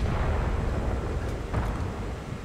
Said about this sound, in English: there goes another arty shell from the same general area